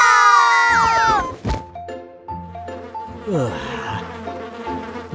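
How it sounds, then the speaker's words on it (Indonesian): Cartoon mosquitoes buzz in a children's animated show, with high whiny tones sweeping and gliding over bright musical dings and a thunk, loud and near, mixed with animated sound effects. "Nyamuk-nyamuk ini sangat mengganggu."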